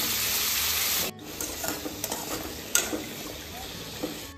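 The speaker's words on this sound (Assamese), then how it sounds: "এতিয়া ভাজিখন একদম মিডিয়াম ফ্লেমত মই যেতিয়ালৈকে নিসিজে ভাজি থাকিম" Pumpkin pieces sizzling steadily in a hot pan over a medium flame, with a spatula stirring and scraping in a few short strokes through a continuous close frying hiss.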